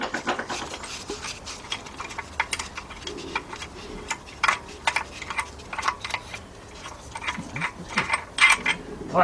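A ratchet wrench clicks rapidly in bursts while a bolt comes off the 3.7 engine of a 2003 Jeep Liberty Sport, with close metallic ratcheting and tool handling and no talk.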